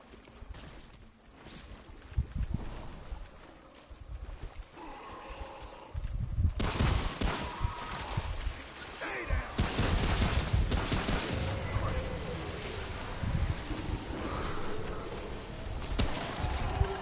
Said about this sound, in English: You can shoot that guy's explosive when he raises up like I just did there, and it'll blow up in his face